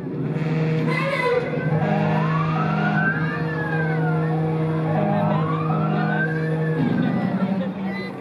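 A fire engine arrives with its siren wailing in rising and falling sweeps at a firefighters' festival extrication demonstration, loud and close over an idling engine rumble, with a voice talking over it.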